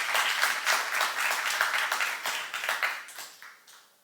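A church youth congregation breaks into warm applause during a sermon, with thick clapping that holds strong before thinning and fading away near the end.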